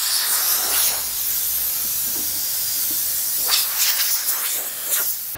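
Compressed air blasts dust off a fiberglass fender spear part for a 1958–62 car, a steady hiss with several sharper bursts near the end, close and fairly loud.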